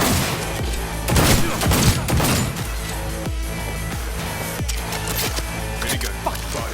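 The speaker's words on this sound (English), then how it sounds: "Minigun. Fire." Minigun fire in Cyberpunk 2077 rattles as a continuous rapid stream of shots, with heavier crashing impacts early on, loud and steady throughout.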